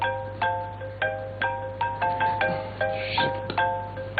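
A mobile phone ringtone plays a repeating electronic chime pattern in regular bursts, loud and close, over a steady low hum, with no talking.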